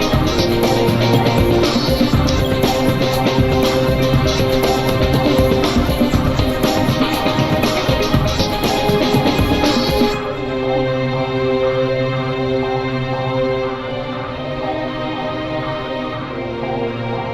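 Dense orchestral game music from FreeSpace 2 Open plays loud and continuous, full and layered throughout, thinning slightly after about ten seconds, with no talking over it.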